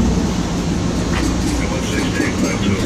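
Boston College train waiting at a station platform, a steady low rumble and hum of the standing train with faint clanks, close and continuous throughout.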